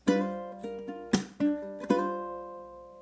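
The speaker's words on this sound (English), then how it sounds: "I like to pluck those 2 strings together," Ukulele playing a quick open G with slides and strings 1 and 2 plucked together, a short series of close, bright plucked hits with one sharp percussive accent, the last notes ringing out and decaying.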